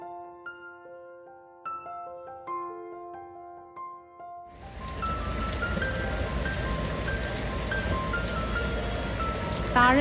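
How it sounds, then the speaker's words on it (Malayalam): Heavy rain on the Alappuzha backwaters in Kerala, as heard from a boat's upper deck, follows a short melodic tune and settles into a loud, continuous rushing hiss. "ആഗ്രഹിച്ചതുപോലെ തന്നെ നല്ല മഴയുണ്ട്."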